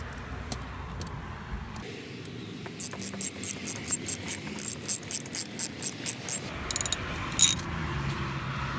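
A ratchet wrench tightens bolts on a VW Jetta transmission cooler, giving about a dozen crisp, close clicks in a steady rhythm followed by a few quicker final clicks.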